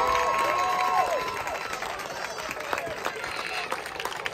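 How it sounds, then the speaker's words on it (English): Crowd applause and cheering at an amateur boxing club event by the beach after a hard-fought round, steady and fairly loud, with a brief clear tone near the start and scattered shouts. "big round of applause for these two"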